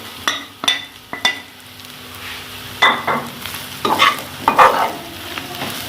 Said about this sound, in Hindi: तो इसे मिक्स करेंगे और साथ ही इसके अंदर हम मसाले ऐड करेंगे।